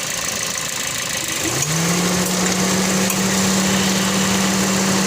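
A third-generation Toyota Vios engine idles roughly and misfires, shaking as it runs. A steady low engine drone settles in about a second and a half and continues alone at close range, with no talk over it.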